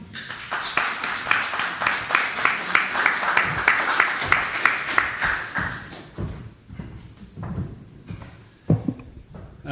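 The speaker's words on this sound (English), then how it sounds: "Let's give him a round of applause." An audience at a mining investment panel event claps in a steady burst of applause that fades after about six seconds, followed by scattered thumps and shuffling.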